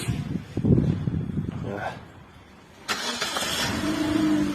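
A Nexia car starts by remote key fob: muffled handling and a brief lull, then the engine catches with a sudden burst and settles into a steady, close idle, with talk heard alongside.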